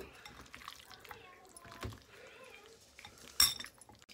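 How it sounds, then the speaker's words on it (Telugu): Chicken pieces are stirred with masala paste in a metal bowl, producing soft scattered clinks, scrapes and wet squelches, with one sharper clang near the end, all quiet and close. "ఈ పేస్ట్ మొత్తం ఇందులోకి పట్టే విధంగా చికెన్ పీసెస్కి పట్టే విధంగా మిక్స్ చేసేసుకుంటాను"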